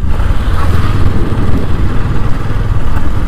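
A motorcycle engine rumbles loud and close at a steady idle while the bike is being parked, a continuous low throb with no talking.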